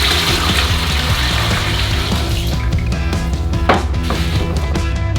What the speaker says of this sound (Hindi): आटे के लिए बेसिन में 3 लीटर 330 मिलीलीटर पानी डालेंगे।